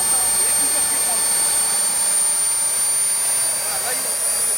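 An Aérotrain jet engine running at high revs, a loud, steady roar with a sharp high whine held throughout, unbroken and close.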